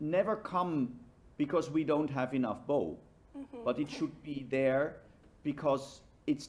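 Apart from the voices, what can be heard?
No everyday noise stands out behind the speech.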